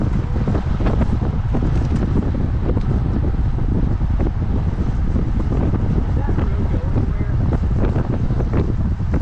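Wind roars over the microphone while cycling on a road near the front of a group, a loud, continuous, buffeting rush with no break.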